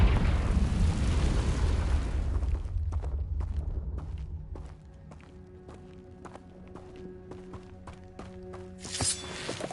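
A Confringo fire spell blasts in the video game Hogwarts Legacy, a loud, rumbling burst that fades into scattered clicks, taps and a faint tonal hum, then a brief bright swell near the end.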